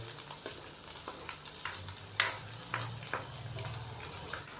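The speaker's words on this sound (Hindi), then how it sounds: "अब हम इसको 1 से 2 मिनट फ्राई कर लेंगे" A soft, steady sizzle of ginger-garlic paste frying in a pan, with occasional scraping stirs from a spoon, quiet and close.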